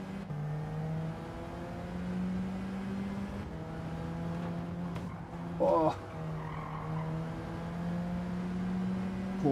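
Corvette GR3 race car engine in Gran Turismo 7 during a league race, a loud steady droning hum held throughout, with a brief burst of shifting revs and tire noise midway as other cars run nearby.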